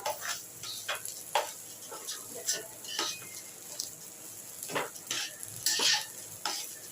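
Gobindobhog rice is stirred and fried in hot ghee with chilli and turmeric, giving soft sizzling under repeated scraping strokes of a spoon against the pan, fairly quiet and irregular, with no talking.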